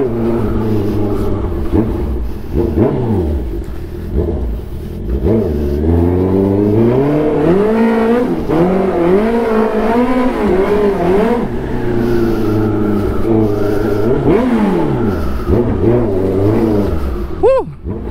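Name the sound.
Honda CB650R motorcycle engine revving and accelerating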